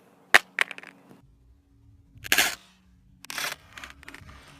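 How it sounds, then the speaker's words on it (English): A Samsung Galaxy S6 Edge smartphone dropped face down in a rear-glass drop test gives a few sharp impact clacks and rattles on a hard surface, followed by a louder crash and scattered smaller knocks as it settles. "I'm going to try and drop it face down, see if it would crack."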